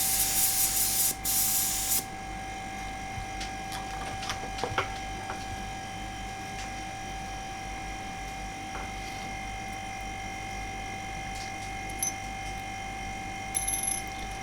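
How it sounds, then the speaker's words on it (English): A handheld air blower fed by a small Bambi compressor gives a short loud hiss of air at the start, then falls quiet under a steady workshop hum, with faint clicks and one more brief puff near the end. "I have a handheld blower here that's connected directly to a small"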